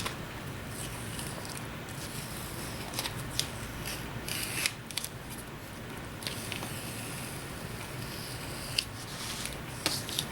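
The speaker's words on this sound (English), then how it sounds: "I use an X-Acto knife to peel some of this away" An X-Acto knife peels away heat transfer flocked vinyl, producing soft, close scratchy scraping and peeling rustles with small ticks, low-level and continuous with slight variations in intensity.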